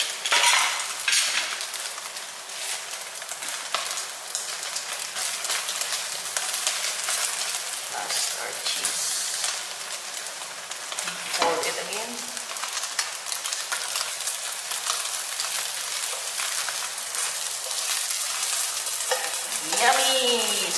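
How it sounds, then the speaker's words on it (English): Scrambled eggs with broccoli, ham and cheese sizzling loudly in a pan, a dense, steady frying hiss with occasional utensil scrapes and clinks, close up and without talk. "Scrambled egg with broccoli, ham, and cheese."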